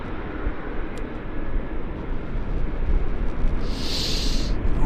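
A CRJ jet airliner at Vancouver airport produces a steady broad engine roar heard from a moderate distance, growing slightly louder with a brief high-pitched whine toward the end.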